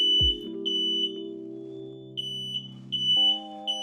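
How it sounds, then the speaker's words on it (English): Smoke detector fire alarm, set off by smoke from a flamethrower charring a bourbon barrel, sounds as a piercing high electronic chirp repeating in short bursts over a low steady hum, close and fairly loud. "we set off the fire alarm"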